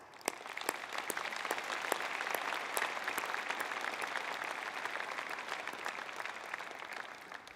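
Steady, sustained applause from a large convocation audience at a university ceremony, with dense overlapping claps, fairly quiet and distant, continuing evenly throughout with no talk.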